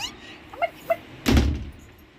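A door swings shut indoors with one solid, close thump, preceded by a couple of brief, faint higher-pitched sounds.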